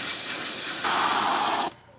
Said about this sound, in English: To help control how much glue I'm squirting out of this.